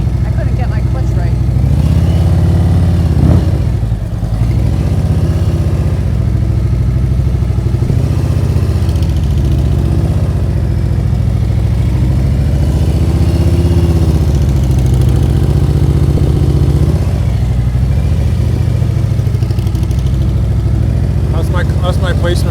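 Motorcycle engine running steadily during riding practice, a loud, continuous mid-pitched drone with slight rises in revs, while people talk over it throughout.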